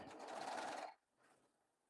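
A Baby Lock serger stitches an elastic waistband in a fast, even mechanical whir. The machine runs loud for about a second, stops, then runs briefly and more faintly.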